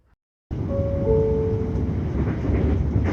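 A train arriving at Newport station rumbles steadily with a low roar and a faint high whine, close by, continuing without voices after a brief quiet start.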